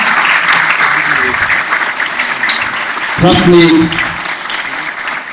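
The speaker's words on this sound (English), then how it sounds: "a very big round of applause to our coordinator" Applause from the audience at a Model UN opening ceremony, a sustained crowd clapping that carries under a speaker's voice and briefly swells as more talk is heard.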